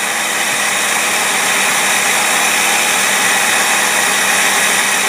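A Mercury engine fitted with a replacement Carter AFB carburetor idles steadily and loudly, its smooth, even running continuing alone without any break.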